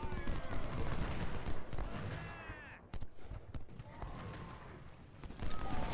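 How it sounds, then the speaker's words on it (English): Infantry musket volleys crack out in the Civil War strategy game Ultimate General at First Manassas, sharp bursts of gunfire scattered over a rumbling battlefield din, with someone talking over part of it. "Actually, get one more volley off Hampton."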